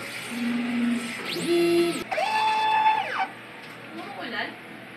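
A DTF printer runs a head clean and nozzle check, giving close, steady mechanical whirring with rising and falling motor tones and sustained pitched whines from the carriage and pump over a constant hum.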